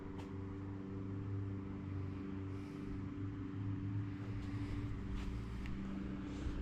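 Steady low engine rumble from a 1977 Honda GL1000 motorcycle, restored from a basket case and ridden for the first time in about 20 years, a constant droning hum with faint rustle on top.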